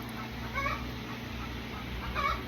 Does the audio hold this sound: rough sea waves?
no